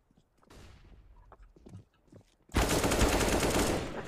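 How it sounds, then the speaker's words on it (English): A flashbang goes off in Counter-Strike: Global Offensive: quiet clicks and movement sounds, then an abrupt loud, sustained ringing burst that fills the last second and a half. "Throwing a flashbang."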